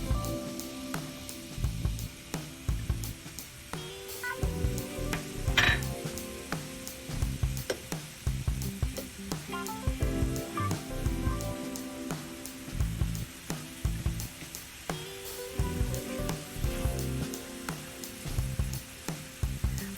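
Tomatoes sizzle and fry in a pan that has just been cleaned after browning chicken. The crackling and spitting run steadily throughout, with scattered pops and light stirring knocks, close up and with no voices.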